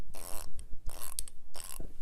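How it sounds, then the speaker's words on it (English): A new Snap-on 3/8-inch locking ratchet clicks loudly in three separate bursts of rapid, close ratcheting, with brief pauses between strokes and no talking. "this ratchet makes a lot of noise compared to all the other ratchets"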